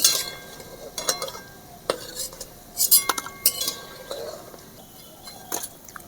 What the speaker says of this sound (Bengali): সমস্ত ডিম ভাজা হয়ে গেছে, এবারে আমি তুলে নেব